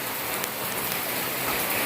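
Steady rain falls on surfaces nearby, an even, dense patter that holds at the same level throughout with no voices.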